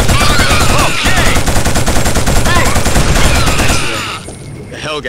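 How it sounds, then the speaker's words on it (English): Dense, loud automatic gunfire rattles without letup in a firefight in the PS2 game Killzone, with shouting voices mixed in and the barrage easing slightly near the end. "We need support! Cover their position! Taking heavy fire!"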